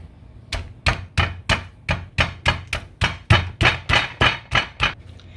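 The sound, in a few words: chopping chicken in a bag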